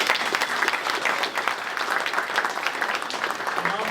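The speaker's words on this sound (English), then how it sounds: "Big round of applause for them." Audience applause for event sponsors at a tech meetup: dense, steady clapping from a sizeable crowd, sustained and fairly loud throughout.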